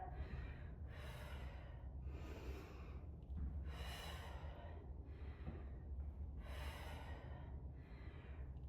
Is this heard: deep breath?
yes